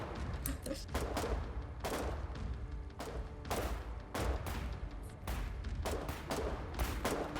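Rapid gunfire from the war game Foxhole, bursts of rifle and machine-gun shots cracking in close, dense volleys across the whole stretch with scarcely a pause, over a low rumble of battle.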